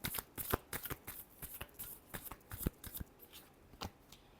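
Tarot cards being shuffled, a quick run of crisp riffling flicks and soft slaps, close and fairly quiet with no talking.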